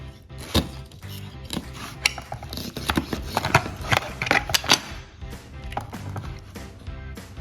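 A knife or pizza cutter scrapes and taps through homemade pizza in a pan, with irregular close clicks and knocks against the metal.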